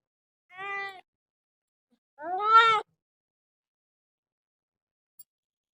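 Pet cat meowing indoors, two distinct meows about a second and a half apart, the second longer and louder, with quiet surroundings in between.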